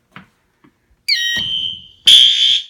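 A fire alarm sounds at an apartment building across the street, two loud sustained electronic tones in quick succession, each lasting about a second, after a few faint knocks.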